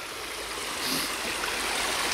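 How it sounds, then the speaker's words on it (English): Water draining out of a dug hole on open land, a steady close rushing trickle like a small stream that swells slightly partway through, with no voices. "It's draining out slow but sure."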